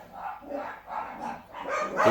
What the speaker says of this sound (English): Crazy dog. Dog's going nuts here.